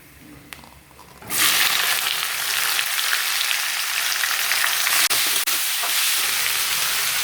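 Sliced onions tipped into hot oil with fennel seeds set off a sudden loud, broad hiss that holds steady and close for several seconds, with no voices.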